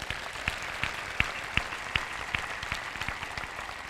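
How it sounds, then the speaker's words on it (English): Scattered clapping rings out for the school board at a high school commencement ceremony, faint and thin, with individual claps clearly separate at a quick, uneven rhythm, as though from a distance. "A round of applause for our board."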